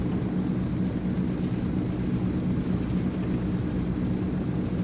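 The turboprop engines of an AzurPoly Transall C-160 transport plane in Microsoft Flight Simulator give a loud, steady droning roar that holds constant throughout.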